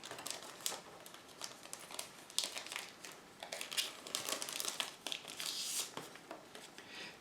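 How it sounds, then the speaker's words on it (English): Protective film is peeled off the decal sheet of an Eduard 1/72 F-6 Hellcat model kit, making close, uneven crinkling and crackling plastic sounds in short bursts, with no speech. "So we're gonna remove that film"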